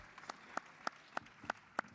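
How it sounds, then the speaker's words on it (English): At a Black Caucus event, sparse, faint applause consists of about six sharp, evenly spaced claps from what sounds like a single pair of hands, separated by quiet gaps. "please give him a round of applause"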